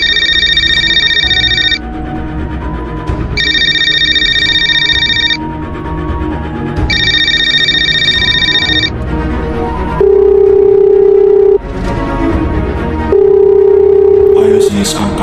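A phone call rings out in an Indonesian animated school drama, with a repeating ringback tone in regular pulses, followed by a lower steady tone as the call waits to be answered.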